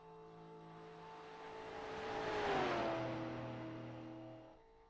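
A simulated V8 Supercar at Bathurst in a sim racing game, its engine whining in steady tones that swell to a peak midway and then shift pitch and ease off.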